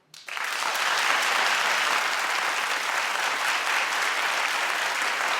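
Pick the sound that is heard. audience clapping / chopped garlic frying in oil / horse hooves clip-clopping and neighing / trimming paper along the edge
audience clapping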